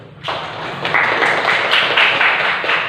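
Audience applause in a classroom teaching-performance assessment: a sustained burst of clapping starts abruptly after a brief pause and carries on steadily and fairly loudly to the end.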